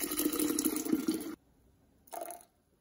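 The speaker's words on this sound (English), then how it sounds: "I add 1 liter of water." Water poured onto red yeast rice for Matsu Islands–style rice wine, a steady splashing stream for about a second, then silence and a short second splash, faint and close.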